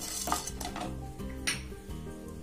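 Chana dal and garlic are roasted in a pan over low heat while a spoon scrapes and clinks against the metal, giving repeated stirring scrapes and light taps at close range with no voices.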